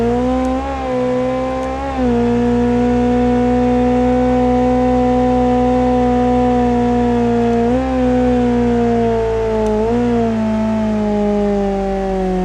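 An Ibishu Miramar car engine straining to tow a heavy load in the BeamNG Drive video game, a loud, steady droning whine held near one pitch, dipping and rising slightly a few times.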